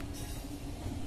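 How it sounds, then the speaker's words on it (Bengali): A train rolls past at Bandel Junction railway station, a brief burst of steady rumbling wheel and carriage noise. "Bandel junction trains passing."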